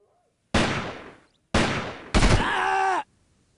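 Gunfire in the tactical shooter Delta Force 2: three loud, close bursts, each with a sharp attack and a decaying tail, the last one longer and harsher, with silence between and after.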